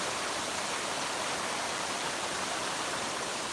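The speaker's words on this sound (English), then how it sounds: "You guys see that waterfall over there?" Steady broadband rushing water from a waterfall at lock 17 on the Erie Canal, heard from a distance, roars evenly without pause; no voices are heard.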